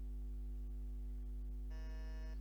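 A quiz buzzer sounds a steady electronic tone over a constant low hum, entering near the end and holding for under a second.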